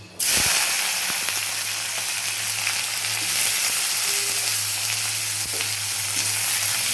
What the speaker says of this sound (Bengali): একটু ভালো করে পেঁয়াজটাকে লাল লাল করে ভেজে নেব